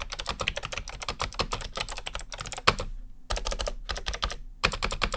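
Rapid typing on a mechanical keyboard with vintage switches, a dense stream of sharp clacky keystrokes in quick bursts, close and clear, broken by two brief pauses.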